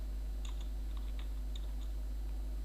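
Someone types on a computer keyboard, producing light, irregular key clicks over a constant low electrical hum. The clicks are close but quiet, and no one speaks.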